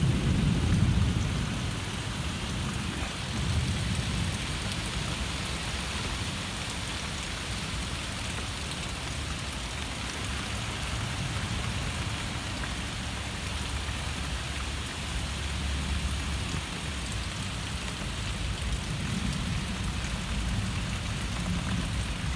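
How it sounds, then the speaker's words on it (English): Steady, heavy rain falls during a severe thunderstorm in Westfield, Massachusetts, a dense continuous hiss of drops on surfaces with low thunder rumbling underneath, constant and moderately loud from start to finish. "I think the rain's starting to die down."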